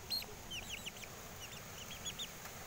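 A chicken, just let out of a basket at a spot where water spinach seeds are being sown, makes faint, brief chirping clucks over a steady low outdoor background.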